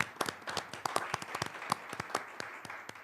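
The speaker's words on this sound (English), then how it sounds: "we want to applaud you there" Sparse clapping at a city council meeting honoring an award recipient, with a few distinct, irregular hand claps ringing out fairly quietly in a small room, no voices over them.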